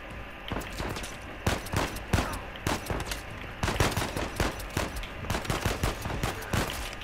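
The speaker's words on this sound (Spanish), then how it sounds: "¿Pero quién me ha crujido a disparos?" Rapid gunfire in the video game Uncharted 4, a dense, loud barrage of overlapping shots and bursts running steadily through the whole stretch with no pauses.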